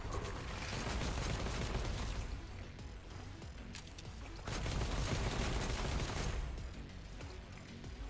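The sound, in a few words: gunfire during a boss battle in the video game Anno: Mutationem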